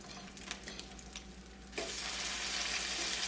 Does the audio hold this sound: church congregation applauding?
no